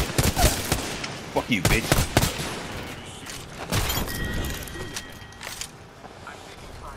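Rapid gunfire bursts from the Apex Legends video game, loud sharp volleys repeating through the first half then thinning out, with players shouting and talking over the shots.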